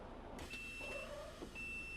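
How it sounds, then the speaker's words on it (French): Faint electronic door-opening warning beeps from an S416UL bus, a couple of thin tones over steady engine rumble. "il fait bip bip bip quand la porte s'ouvre"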